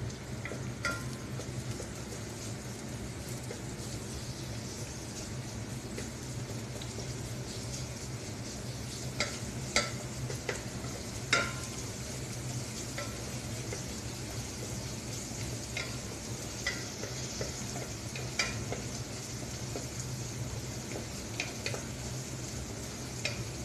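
Garlic fries in a pot for lentil soup, a soft continuous sizzle with occasional sharp clinks of stirring, close but fairly quiet and with no talking.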